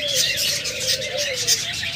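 Pet cockatiels at a bird shop chirp in quick, repeated high-pitched bursts, close and fairly loud over a faint low background hum.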